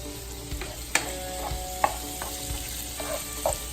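Sausages browning with peppers and spices in a pan give a soft, steady sizzle, broken by a few sharp clicks and scrapes of a utensil as the mixture is stirred, with no one speaking.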